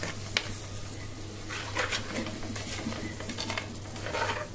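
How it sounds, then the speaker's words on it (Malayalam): Tamarind juice being mixed into inchi puli in a pot, a soft continuous stirring and scraping with light clinks of a utensil against metal over a steady low hum, close by, no talk. "പുളി പിഴിഞ്ഞ് ഒഴിച്ചു കൊടുക്കും. അതും നല്ലൊന്ന് മിക്സ് ചെയ്ത് റെഡിയാക്കണം."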